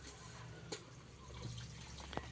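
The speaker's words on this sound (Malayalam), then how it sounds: "വെള്ളം പോയിക്കൊണ്ടിരിക്കുന്നുണ്ട് കേട്ടോ" Water drains steadily from a fish tank through a hose, a faint, continuous trickle with a few soft drips and splashes, alone without talk.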